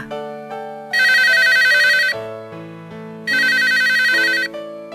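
A melodic phone ringtone plays loudly and close, two bright ringing bursts separated by a lower musical phrase.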